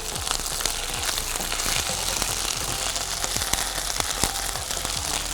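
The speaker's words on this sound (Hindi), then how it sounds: "तो सौते करेंगे।" Onions with ginger garlic paste sauté in a pan, a continuous close sizzling hiss scattered with small pops and crackles at an even level.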